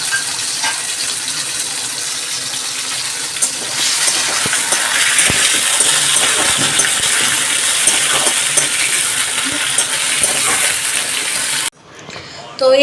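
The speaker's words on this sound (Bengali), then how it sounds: "এর মধ্যে দিয়ে দেবো আলু, টুকরো করে কেটে রাখা আলুগুলো দিয়ে দিলাম" Cut potato pieces drop into hot oil for a home curry, setting off a loud, steady hiss and sizzle that swells partway through and runs on under a voice before cutting off near the end.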